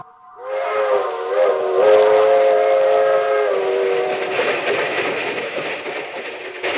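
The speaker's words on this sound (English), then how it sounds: "That train is the Southeast Limited." A steam-era passenger train, the Southeast Limited, sounds its whistle in a long sustained blast that bends in pitch. Rumbling rail noise and clatter then swell and carry on steadily, with no talk over it.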